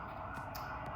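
An ambulance siren passes at a distance, a faint steady wail under the room's background hum.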